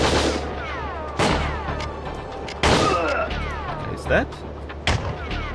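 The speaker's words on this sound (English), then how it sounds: "The guy's none the wiser and just still keeps on shooting me from the same position." Enemy gunfire in the PS2 game Operation WinBack: several sharp, loud shots crack out at irregular intervals, with ricochet-like tails, while a person speaks briefly.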